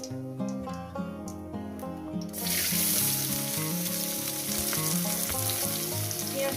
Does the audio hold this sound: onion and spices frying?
yes